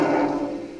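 A single drum hit after the skin is tightened rings with a higher pitch, a bright struck tone that fades steadily over less than a second, played alone and close with no talking.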